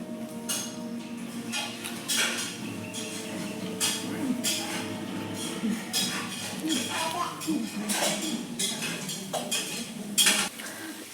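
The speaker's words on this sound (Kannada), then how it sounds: "ಇದು ಈರುಳ್ಳಿ ಫ್ರೈ ಆಗಿದೆ." Onions frying in a pan for a Karnataka-style dill leaf (sabsige) pulao, a steady soft sizzle with repeated scraping and stirring of a spatula against the pan, close and continuous, with faint voices in the background.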